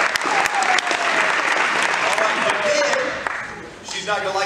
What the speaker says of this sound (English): And Kim needs a round of applause.